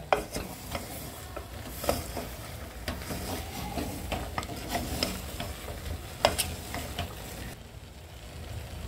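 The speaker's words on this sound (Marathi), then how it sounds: "हे बघा हे वांग्याला असं चांगलं याच्यात मिक्स करून घ्यायचं" Stuffed eggplants frying in oil for bharwa baingan sabji, stirred with repeated spatula scrapes and knocks over a low, steady sizzle, close by and fading slightly at the end.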